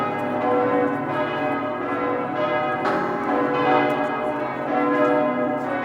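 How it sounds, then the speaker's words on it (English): Church bells in Wheeling, West Virginia ring continuously, a dense, steady wash of overlapping metallic tones that sustains without a break. "The churches throughout Wheeling rang their bells for about 10 minutes."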